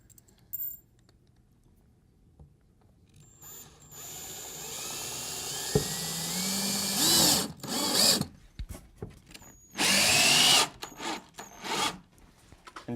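Power drill driving 3-inch screws into wood for a simple table, several separate loud bursts of motor whine and grinding, with quiet pauses between them.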